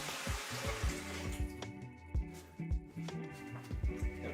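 Water poured out to flush a container, a close splashing and gurgling pour with irregular knocks and clunks, quiet and alone with no talking.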